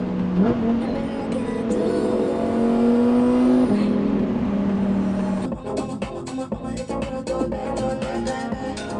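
A car engine revs close by, a sustained rising drone that holds steady before dropping away, followed by rougher, choppier engine noise.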